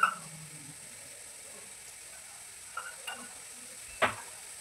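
Chili powder is stirred into spinach frying in a pan, with a soft steady sizzle, a few light scrapes and a sharper clink of the utensil near the end.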